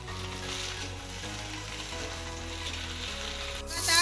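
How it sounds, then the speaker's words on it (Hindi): Karonda frying with garlic and green chili in hot oil for pickle, a steady close sizzle throughout that swells slightly toward the end as it is stirred. "अब इसमें हम करौंदा डालेंगे और इसको पकाएंगे"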